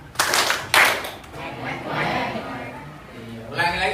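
A group claps hands in a counted rhythm as an ice-breaker, a few sharp bursts of claps early on and again near the end, with voices and room noise in between.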